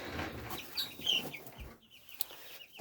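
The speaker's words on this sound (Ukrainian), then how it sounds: "Тут у мене мої курчатка." Small chicks peep and cluck softly in short, scattered calls, close by with a faint background hum.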